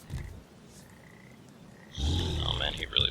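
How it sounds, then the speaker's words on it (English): Frogs in the video game Papo & Yo croak in a dense, throaty chorus that swells loudly in the last second, with faint game ambience before it and a voice talking. "as you can maybe hear, there are more frogs"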